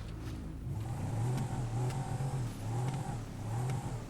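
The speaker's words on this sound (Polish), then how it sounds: "Tak mocniej brzmi, takie już bardziej V8 właśnie." A Mercedes-Benz G63 AMG 6x6 engine in GTA 5 revs repeatedly in short rising bursts, a deep throaty V8-like roar with a slightly synthetic tone.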